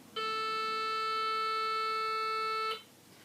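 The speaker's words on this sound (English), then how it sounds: "my metronome has A at 440" A metronome sounds a steady concert-pitch A 440 reference tone, one clean sustained electronic note held for about two and a half seconds before cutting off, alone and fairly quiet.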